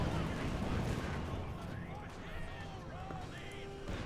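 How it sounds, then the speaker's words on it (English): Artillery and gunfire in the video game Company of Heroes 2 during a Wehrmacht versus Soviet match, a steady rumble of distant explosions and shots under music, with a commentator talking over it. "Smileman adding even more artillery here versus Ghost, who continues to have no artillery."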